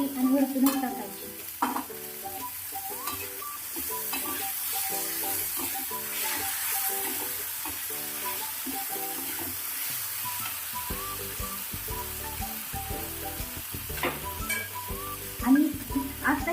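Eggplant bharit with onion being sautéed in a pan, a steady sizzle and frying hiss running throughout with repeated scraping stirs of a spatula, close and fairly loud, no talking.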